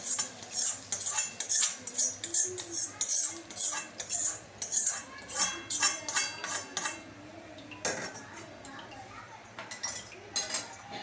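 A spoon stirs steamed poha in a metal pan, clinking and scraping in a rapid, steady rhythm close by.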